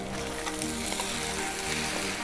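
Beef roast being stirred hard in a hot pan, a steady dense sizzle with scraping stirs running throughout, close and loud with no talking.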